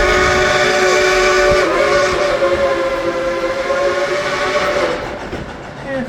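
Dollywood's steam locomotive number 70, Cinderella, sounds a long sustained whistle with rich layered tones while the engine rumbles underneath, fading somewhat toward the end.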